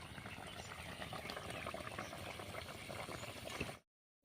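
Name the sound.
fish curry with fenugreek and fennel boiling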